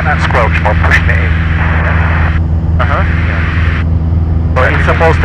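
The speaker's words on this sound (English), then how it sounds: "You get that squelch while pushing it in." Bursts of broadband radio squelch hiss switch on and off as the volume knob of a light aircraft's radio is pushed in, over a loud steady engine drone, with voices talking through the headset.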